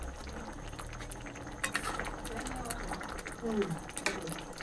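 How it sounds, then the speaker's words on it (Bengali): A sardine curry with eggplant bubbling gently in a pan, soft continuous simmering with occasional louder bubbles and faint utensil clinks, quiet and close. "মাছ আমি বেশিক্ষণ ফোটাবো না, অল্প ফুটিয়ে রেখে দেবো।"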